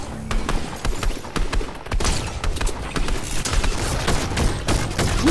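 Gunshots in Fortnite: a rapid, steady string of loud sharp cracks repeating throughout, close and dominant, with game noise beneath.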